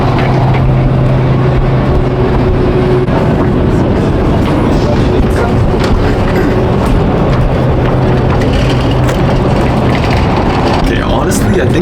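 High-speed bullet train running from Paris to Lyon, heard from inside as a loud, constant rumble and rushing noise with no breaks, and faint talk underneath.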